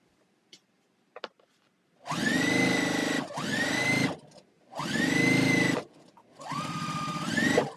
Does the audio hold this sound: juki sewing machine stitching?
yes